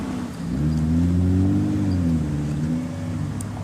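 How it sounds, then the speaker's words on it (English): Cars drive past on a road, a low engine drone rising and shifting in pitch as they approach and go by, fairly close and steady. "I'm gonna let these 2 cars pass"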